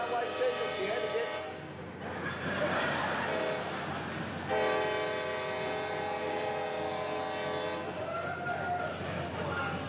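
Train horn sounding a warning at a railroad crossing, two long, loud harmonic blasts separated by a rumbling pause, with a third softer tone near the end over rail noise.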